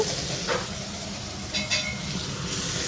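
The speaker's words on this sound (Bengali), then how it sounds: "তো সেজন্যই আলুটাকে একটু ভেজে নিচ্ছি" Potatoes frying in a pan in a home kitchen, a steady close sizzle with a few soft stirring scrapes, no voices.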